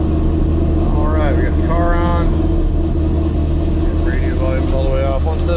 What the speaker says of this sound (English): Go ahead and turn the car on and see what happens.